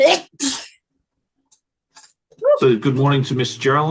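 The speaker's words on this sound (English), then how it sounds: "And I'm going to sneeze." A sharp sneeze bursts out twice at the start, followed by a pause and then a person talking.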